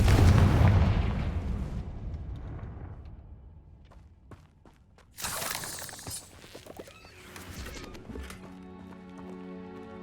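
The Confringo fire spell in Hogwarts Legacy detonates in a loud blast midway, followed by crackling debris and ringing game effects, after a louder rumbling stretch at the start.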